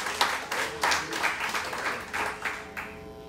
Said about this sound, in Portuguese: Aplauda o Senhor por seu melhor essa noite.